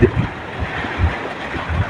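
Strong wind gusts buffet a small fishing boat out at sea in Lamon Bay, a steady rushing roar with low thumps of wind against the microphone, loud and unbroken.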